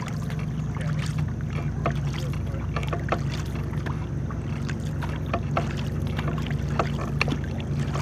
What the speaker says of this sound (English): But just drag your paddle on the right side, Wyatt.